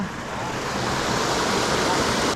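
A waterfall at a stream's headwaters where fishing takes place, a steady broadband rush of falling water that stays constant and fairly loud throughout with no pauses.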